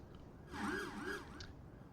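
An ambulance siren in the Roblox game Oxford Response, which has glitchy siren audio, rises and falls in two quick wailing sweeps, moderately loud over a faint background hum.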